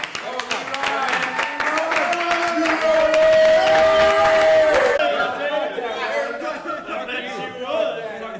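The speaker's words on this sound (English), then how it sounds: "why don't we clap him in and let's hear my friend" A live comedy podcast audience claps a comedian onto the stage, with steady applause and crowd chatter, a voice talking over the clapping, and a sustained musical tone in the background.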